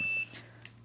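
A T40 Rattler H2S gas detector sounds its alarm as high, sharp electronic beeps, loudest at the start and trailing off into quieter bleeps over a steady low hum.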